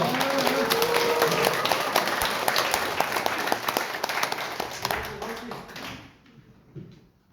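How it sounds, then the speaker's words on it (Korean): Sustained applause from an audience at a National Assembly academic forum, steady dense clapping under a faint voice before it thins and fades out near the end. "다시 한번 힘찬 박수를 보내주세요"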